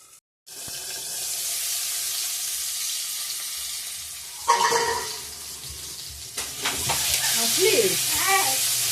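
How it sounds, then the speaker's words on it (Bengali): Potatoes with salt and turmeric frying in hot oil in a covered pan, a steady loud sizzle followed by a lid clatter and stirring, with a person talking briefly near the end. "ঢেকে দিয়ে ভাজা করছি তাড়াতাড়ি সিদ্ধ হবে"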